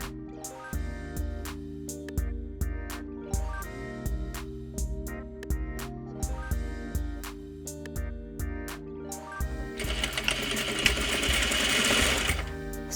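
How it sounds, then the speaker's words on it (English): A sewing machine stitches trouser waistband pieces together in short, rhythmic bursts of rapid mechanical whirring separated by pauses, ending in a longer, busier stretch of sewing, loud and close with no voices. "Sew the top edge of your waistband pieces together using 1/2 inch or 13mm seam allowance."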